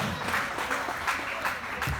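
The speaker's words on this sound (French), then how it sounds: "Clotilde, sur le podium, sous vos applaudissements" An audience at an a cappella singing talent show applauds a candidate named Clotilde taking the podium, scattered clapping rising in uneven bursts, fairly faint and distant, with some soft crowd murmur beneath.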